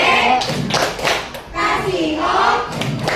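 Schoolchildren in a sixth-grade classroom do a rhythmic clapping chant, with hand claps and taps mixed with their chanting voices, loud and close, pausing briefly midway before resuming.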